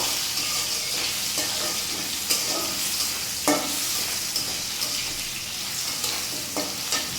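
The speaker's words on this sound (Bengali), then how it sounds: "আলুটা ভালোভাবে ভেজে নেব।" Potatoes fry in a pan with a steady bright sizzle, broken by occasional sharp clinks and scrapes of a utensil stirring, heard close with no talk.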